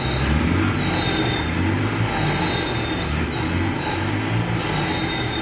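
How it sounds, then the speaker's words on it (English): A Torpedo tractor with a Deutz T9DL6 six-cylinder air-cooled engine runs steadily nearby, a continuous loud mechanical drone with a faint turbo whine riding on top and no voices. "T9DL6 motor Deutsch, 6 cilindara, zračno hlađenje, vazdušno, znači"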